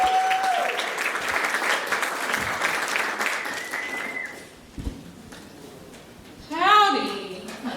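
A comedy-club crowd at Gotham Comedy Club claps and cheers for about four seconds as a comedian comes to the stage. The applause dies down, then a voice begins speaking near the microphone.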